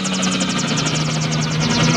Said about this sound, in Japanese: ヘリコプターだ。 ランカーのヘリコプター